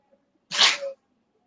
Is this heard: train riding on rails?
no